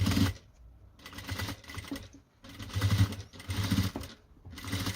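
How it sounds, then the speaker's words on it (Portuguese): A sewing machine stitches the lining of a fabric pencil case in several quick bursts separated by short pauses, close and fairly quiet with no talking. "agora passando essa costura, vamos conferir"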